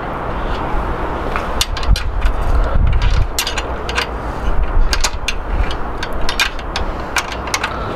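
A ratchet makes quick bursts of clicking while tightening the wheel nuts on a Pashley Sovereign bicycle. The metallic ticks sit close over a low workshop rumble, with occasional knocks and no speech.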